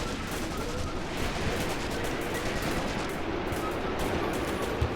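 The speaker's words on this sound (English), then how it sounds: "Yes, machine gun" Machine gun fire crackles in the video game Graviteam Tactics Mius-Front, dense overlapping bursts and scattered shots that sound distant and steady beneath a wash of battlefield noise, with a few sharper cracks toward the end.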